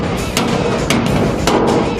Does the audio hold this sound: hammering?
yes